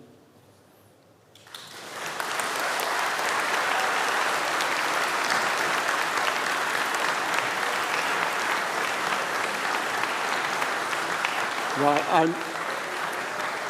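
Graduation audience at a 2025 School of Organisations, Systems and People ceremony bursts into sustained loud applause and cheering after a brief quiet start, with a short voice rising near the end.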